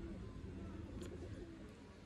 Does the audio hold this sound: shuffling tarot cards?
no